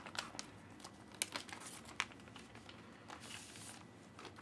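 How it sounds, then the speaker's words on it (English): A resealable plastic package from a Titanic 3D Blu-ray collector's set is handled close by, with scattered crinkles and sharp crackling snaps in uneven bursts over a quiet background. "basically it's a resealable package"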